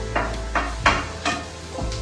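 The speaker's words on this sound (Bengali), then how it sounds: "পেঁয়াজ লঙ্কা ভেজে" Onion and chili frying for Maggi noodles give a close, continuous sizzle, with several stirring scrapes of a spatula in the pan and no talking.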